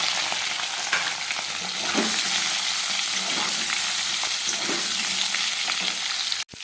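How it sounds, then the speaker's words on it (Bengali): Potatoes frying in hot oil in a pan with cumin, dried red chilli, bay leaf and garam masala, giving a loud, steady sizzle with intermittent stirring scrapes, ending in an abrupt cut, no talk. "আলুটা দিয়ে দেবো, আলুটা ভাজা ভাজা হবে, তারপর আমি মশলাটা দেবো"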